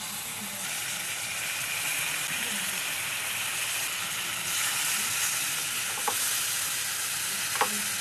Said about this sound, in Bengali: মশলাগুলো আমি হালকা করে ভেজে নেওয়ার পরে দিয়ে দিচ্ছি টক দই।